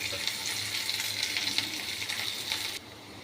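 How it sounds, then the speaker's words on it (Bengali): Pointed gourd frying in a little oil in a pan, a steady close hiss of sizzling with faint stirring scrapes that drops off abruptly near the end. "ভালো করে একটু ভেজে নেব। এটা একটু তেল লাগবে"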